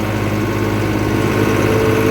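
A Holland tractor and an 855 tractor run with a loud, close, steady engine drone that keeps an even, unbroken throb.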